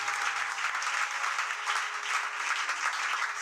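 A church congregation claps in acclaim of the Lord, a dense, steady round of applause from many hands that holds at an even level the whole way through.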